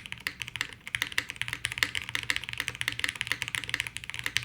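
Fast, steady typing on a Bina 103 full-size custom mechanical keyboard with stiff switches, a dense run of crisp, close key clicks with no talking.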